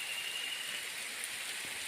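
Rainwater dripping and trickling down a rock cliff along a nature trail on an eco farm near Lake Victoria, a steady, even hiss of fine drops spattering on stone, continuous and close, with a faint high tone running through it.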